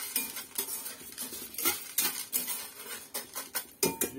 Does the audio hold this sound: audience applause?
no